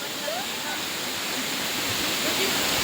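Kiray Falls, a waterfall, roars as a steady, dense rush of falling water, close and loud and unbroken, with no break in the flow.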